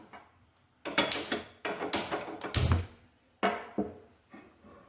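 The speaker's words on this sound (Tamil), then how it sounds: "அடுப்பு ஆன் பண்ணிடுவோம்." A home kitchen stove being switched on: a few sharp clicks and knocks of the knob and burner in quick bursts, close and fairly loud, with quiet gaps between.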